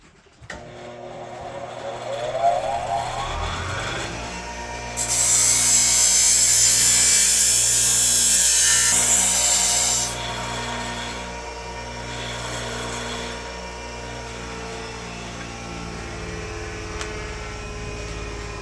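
A grinder works the tip of a broken Gerber knife blade, with a steady motor whine and a loud, harsh grinding burst in the middle before the tone eases back to a running hum. The sound is close and nobody talks.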